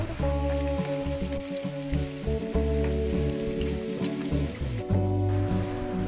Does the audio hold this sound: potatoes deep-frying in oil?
yes